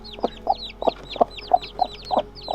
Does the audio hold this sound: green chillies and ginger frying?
no